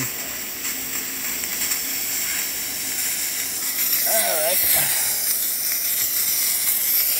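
Steam wand of a DeLonghi Magnifica S espresso machine hissing steadily throughout, a continuous broadband rush with a brief squealing whistle partway through, close up, with a short spoken remark over it.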